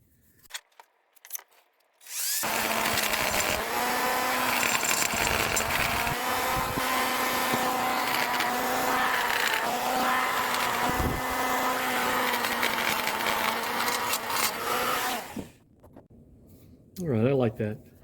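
A power burr grinds steadily inside a cylinder head while porting the valve seat and guide area, a loud continuous whine running about thirteen seconds. Brief talk comes before it, and a short voice follows after.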